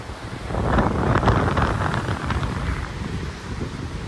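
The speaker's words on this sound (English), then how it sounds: "the wind is going to be terrible, but we wound up at the beach." Strong wind buffets the microphone at a beach, with ocean surf rumbling underneath in a continuous, moderately loud roar.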